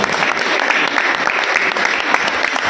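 Dense, steady applause from an audience at an oath-taking ceremony for a community association's new office bearers, loud and continuous throughout.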